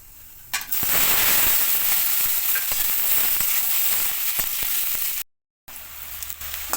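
Potatoes hit hot oil in a pan already seasoned with radhuni seeds, erupting into a loud, steady sizzle with crackling pops that continues close-up, briefly cutting out before resuming.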